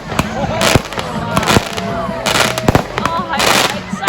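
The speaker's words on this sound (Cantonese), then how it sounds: "咁就喺度放煙花" Bonfire Night fireworks set off by a church burst close overhead, about ten metres up, in loud repeated bangs and crackles, with people talking excitedly between the blasts.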